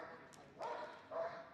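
A Malinois barks twice at Crufts, short sharp woofs heard faintly at a distance within a large indoor event hall.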